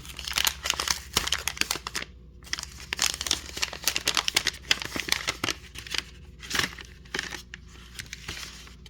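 A Digimon Card Game booster pack wrapper from a 2026 store tournament kit is torn open and crinkled, close and sharp, with rapid irregular crackles, rips and rustling bursts separated by short pauses.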